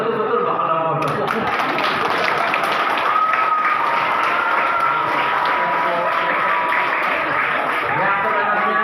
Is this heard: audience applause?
yes